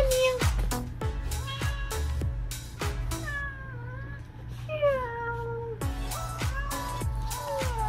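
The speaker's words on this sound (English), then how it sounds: "Meow! My cat is loving me being home with her." A cat meows over and over, close and insistent, with some calls sliding up or down in pitch and short gaps between them.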